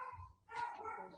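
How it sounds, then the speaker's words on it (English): A dog barks indoors at home, a short bark followed by a louder burst of overlapping barking and yelps, fairly close and moderately loud. "the dog barks every time there is a collector of the garbage."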